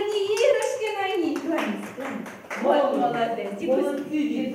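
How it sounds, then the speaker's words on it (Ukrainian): Hands clapping at a New Year party in a nursery, scattered claps mixed in with a child's and adults' speech throughout, close and moderately loud. "плескає тобі в долоньки"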